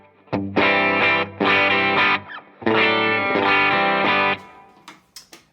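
An electric guitar runs through a Strymon Iridium pedalboard with a compressor, playing loud sustained chords with mild breakup and room reverb, two long strummed phrases separated by a short gap, then a few quiet scrapes and taps as it stops.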